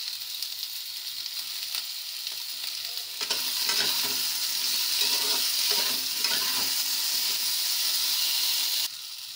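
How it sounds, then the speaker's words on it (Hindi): Potatoes fry in a pan for an aloo parval fry, giving a continuous close sizzle that thickens into louder stirring scrapes and bubbling crackle in the middle before dropping back, with no voices. "आलू को हम 5 मिनट भून लेते हैं।"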